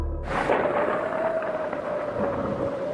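Steady rainfall hisses through a horror story scene, with a low rumble of thunder building beneath the downpour; the sound holds continuous and fairly close for a few seconds without any voices.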